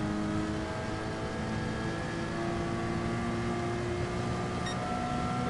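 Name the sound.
race car engine during full speed lap, GT Sport video game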